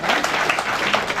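A gathering of the All Pakistan Jamiyat Ul Abbas audience applauds loudly and steadily, a dense wash of many hands clapping throughout with no talk over it.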